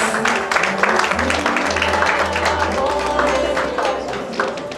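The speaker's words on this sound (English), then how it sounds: "Well, let's give them a round of applause, please." Audience round of applause at an intimate Diaspora Africa Forum award ceremony, steady clapping from a modest crowd with a low hum and some voices underneath.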